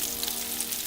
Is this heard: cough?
no